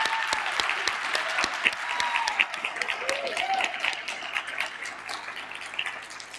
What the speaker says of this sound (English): let's do one huge round of applause for all these groups.